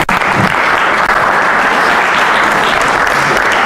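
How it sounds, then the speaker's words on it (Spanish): Audience applause after a card trick at a presentation, loud, dense and continuous clapping from a room full of people, steady for several seconds. "Al ordenador sí le podéis aplaudir."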